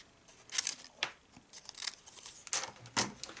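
Scissors snip through a thin piece of card in a series of crisp, close cuts, about six sharp bursts at uneven intervals with quiet handling between them.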